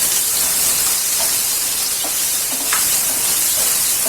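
Pumpkin pieces hit a hot pan and give off a steady, loud steamy hiss and sizzle that lasts throughout, with no voices.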